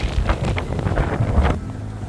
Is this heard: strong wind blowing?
yes